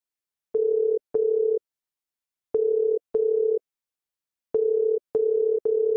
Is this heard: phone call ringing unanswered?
yes